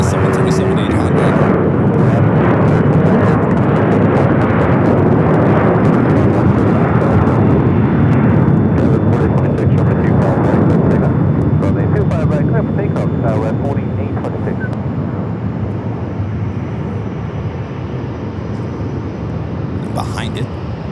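A Delta Boeing 737-800 jet at Phoenix Sky Harbor airport gives a loud, sustained broadband engine roar that slowly fades, while a person talks over it throughout.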